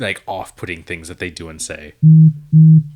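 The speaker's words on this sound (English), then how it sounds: "That was my phone." A mobile phone gives two identical steady electronic tones in a row, loud and close, right after a person finishes talking.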